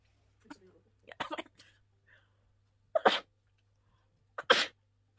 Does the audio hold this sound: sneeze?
yes